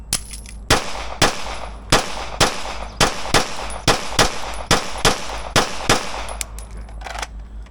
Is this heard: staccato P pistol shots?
yes